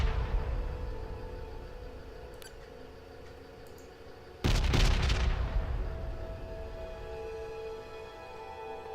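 A bombard artillery piece fires in the strategy game Pandora: First Contact, a single heavy boom at mid-clip over a steady hum of game ambience and music, with no talking.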